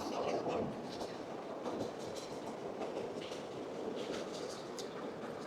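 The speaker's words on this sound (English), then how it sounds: "you hear that, right? That's the train." A train rolls past nearby, giving a steady, dense rumble with faint clickety-clack from the wheels that lasts throughout, with no talking.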